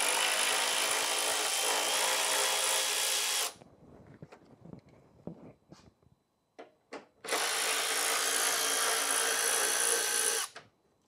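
A power tool whirs loudly for about three seconds while it removes two 10 mm bolts from a Cadillac CTS headlight assembly. Quiet clicks and handling noises follow, then a second long steady burst close by.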